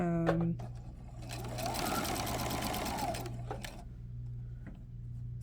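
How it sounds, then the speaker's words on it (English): A Juki sewing machine runs steadily for about two seconds, top stitching a garment from the right side, its needle whirring in a fast even rhythm close by, framed by softer handling noises before and after. "I'm just top stitching from the right side of the garment"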